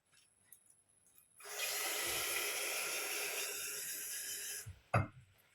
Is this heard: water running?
yes